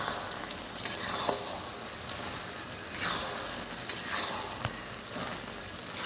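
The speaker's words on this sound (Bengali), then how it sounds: "আমি একদম ভেজে ভাজা ভাজা করবো" Potatoes and poppy seed paste with green chilli and turmeric fry in a pan, a continuous quiet sizzle broken by a few sharp scraping and stirring clicks of a spatula.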